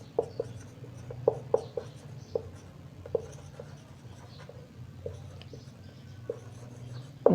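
Marker or chalk strokes on a classroom board, a steady close run of scratchy taps and squeaks with light rhythmic pauses, heard alone without talk.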